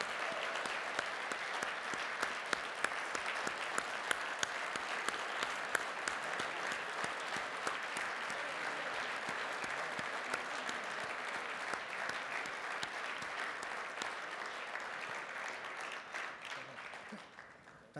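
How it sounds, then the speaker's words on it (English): Warm audience applause after a speech at an organization's event, steady sustained clapping from a sizable crowd lasting the whole stretch, fairly distant, tapering off at the very end. "let's give them a warm round of applause"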